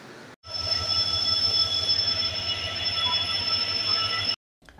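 Falaknuma Express pulling in at platform 21 of Howrah station, a steady loud rumble of wheels on rails with continuous high metallic squealing running throughout, starting and stopping abruptly.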